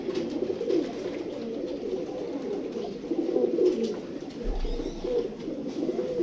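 Pigeons coo softly and continuously in a low murmuring chorus, nearby and steady, with a faint low rumble partway through.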